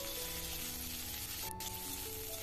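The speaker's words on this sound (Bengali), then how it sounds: "এরপরেই দিয়ে দিলাম ক্যাপসিকাম, ক্যাপসিকামটাকেও খুব হালকা করে ভেজে তুলে নেব" Capsicum lightly frying in a pan for a Bengali cauliflower bhapa, a steady close sizzle running throughout with a brief sharp crackle midway.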